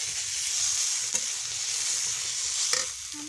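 Cauliflower stems frying in a pan for a village-style chorchori, a close, steady hiss of sizzling oil with a couple of sharp stirring scrapes, no voices.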